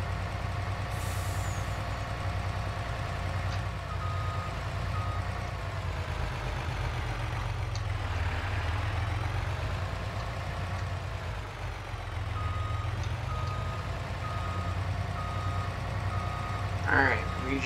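A fire truck in Farming Simulator 22 reverses with a steady, loud diesel engine drone, while a faint repeating warning beep sits under the engine noise throughout.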